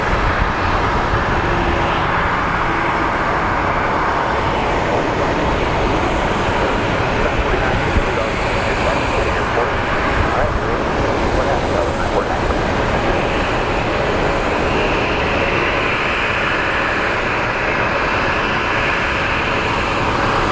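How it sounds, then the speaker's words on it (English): A KC-135 aircraft at Sky Harbor airport in Phoenix gives off a steady, broad engine roar that holds evenly across the whole stretch, with no clear rise or fall. "Look at that KC-135, looks freaking majestic."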